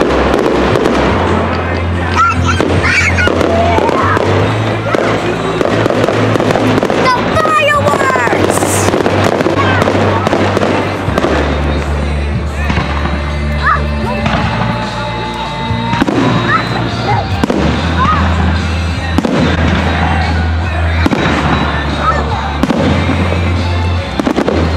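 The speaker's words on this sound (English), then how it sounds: "We're gonna wait for the fireworks." Fireworks bursting outside a hotel in Germany during a Fourth of July celebration, with loud repeated booms and crackling pops throughout and people talking nearby.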